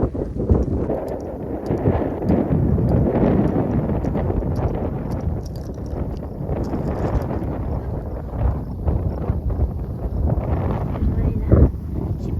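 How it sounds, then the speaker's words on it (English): Wind gusting outdoors under a cloudy sky over dry grass, a steady broadband rush buffeting the microphone throughout, with brief louder gusts. "It's windy out."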